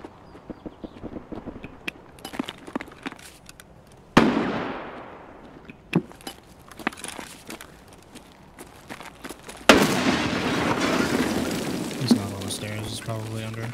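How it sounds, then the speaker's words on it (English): A flashbang grenade in the Escape from Tarkov video game goes off as two sharp, loud bursts several seconds apart, followed by a steady high ringing. Quiet footsteps and clicks come before the bursts, and voices talk around them. "Just gonna go flash nade."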